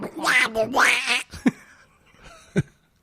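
A voice imitates Donald Duck's quack, a rasping, buzzy cartoon-duck sound, in two sustained bursts near the start and then two short sharp pops.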